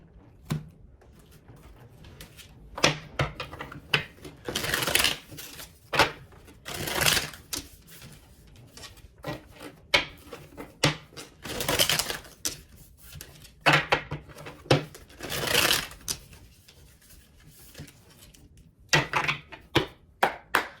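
Tarot cards shuffled by hand in quick bursts of crisp riffling and soft flutters, broken by short pauses and taps, close and fairly clear with no talking.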